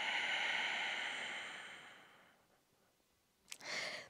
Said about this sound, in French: Expire à fond.